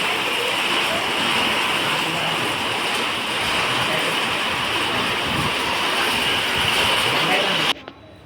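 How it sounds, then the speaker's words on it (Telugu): Heavy monsoon-like rain pours down in a dense, constant roar that ends abruptly near the close. "ఫుల్ వర్షం అయితే పడుతుంది చూడండి ఘోరంగా అంటే మామూలుగా పడట్లేదు"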